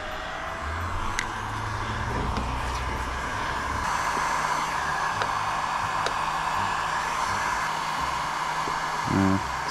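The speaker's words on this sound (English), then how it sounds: "Get your heat gun." A heat gun blows a steady, even rush of hot air throughout while a van roof rack is being installed, close and continuous with faint low rumble underneath and a brief knock near the end.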